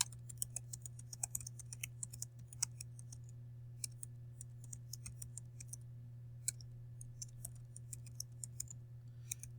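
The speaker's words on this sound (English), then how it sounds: "You would type in your question." Light, rapid keystrokes on a computer keyboard as a question is typed, irregular bursts of faint clicks with short pauses, heard over a steady low electrical hum in a quiet room.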